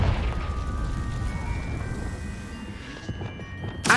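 Confringo fire spell in Hogwarts Legacy, a loud rumbling blast with a low roar that sustains and slowly fades, faint tonal whines above it, ending in a sharp burst.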